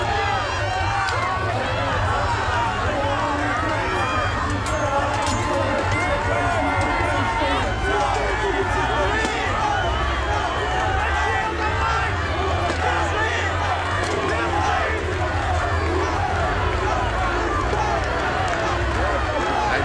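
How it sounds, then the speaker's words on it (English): A crowd loudly chants and roars in support of Ukraine at a Battle of the Nations medieval combat tournament during a five-versus-five final, a dense continuous swell of voices filling the arena throughout. "Listen to the crowd here chanting for the Ukraine."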